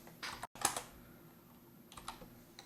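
Several light, brisk keystrokes tapped on a computer keyboard while entering a spreadsheet formula for a financial model, quiet and close, in short bursts with brief pauses between them.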